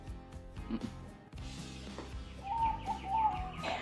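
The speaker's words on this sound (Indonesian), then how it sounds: "Aduh, suara burung lagi." Birds chirp and call outdoors in a quick, repeated pattern, a brighter whistled phrase standing out midway through, heard over a background of musical hum with no talking.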